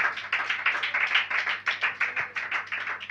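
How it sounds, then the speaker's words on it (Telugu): An audience claps loudly in rhythmic unison, a fast, steady run of sharp close hand claps that continues without pause throughout. "గట్టిగా చప్పట్లు కొట్టండి"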